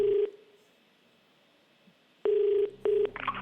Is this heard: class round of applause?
no